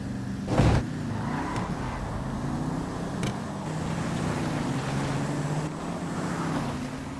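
Two cars, a Corvette and a Blade, launch together in a GTA V street drag race, engines droning steadily and close, with one sharp loud burst early on over a constant motor hum.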